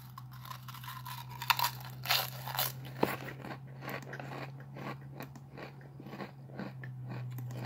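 Crunching on sour cream and onion potato chips, close and dry, with repeated crisp bites and chewing crackles in an uneven rhythm over a faint steady hum.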